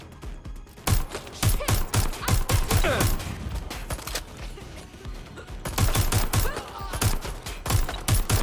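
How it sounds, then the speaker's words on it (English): Bursts of gunfire ring out during a Watch Dogs Legion firefight, with rapid repeated shots in loud clusters separated by brief lulls, and faint voices mixed into the action. "Taking fire! They're shooting!"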